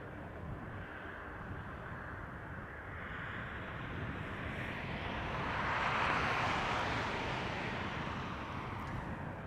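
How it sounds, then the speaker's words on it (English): A KLM Embraer 190 airliner on the move at Schiphol airport gives off a faint, steady distant engine roar that swells slightly midway, mixed with wind noise. "KLM flight 1271 on the move. Embraer 190 to Copenhagen."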